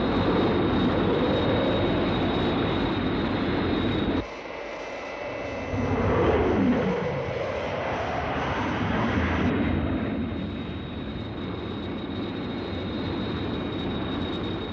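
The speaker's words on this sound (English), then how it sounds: "Have visual contact with Captain Scarlet's jet." A jet aircraft flies past with a loud, steady engine roar. Its pitch sweeps downward midway as the tone shifts, then it settles into a softer, continuing drone.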